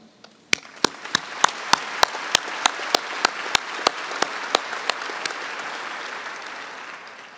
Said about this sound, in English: Please join me in a round of applause for the faculty members who boldly stepped up over the last year